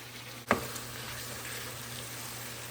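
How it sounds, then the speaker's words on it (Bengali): Potatoes and spices for egg bhuna sizzle quietly in a pan, a soft steady frying hiss with a couple of brief stirring clunks and no voices. "ডিম ভুনা করার জন্য মশলাটা ভালো করে কষিয়ে নিচ্ছি আলু দিয়ে"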